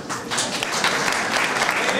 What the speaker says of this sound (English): her entrepreneurial spirit to create a business in this community to promote local artists deserves an applause